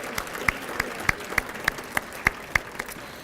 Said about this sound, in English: let's give a huge round of applause to our 2018 Steve Jones Community Champions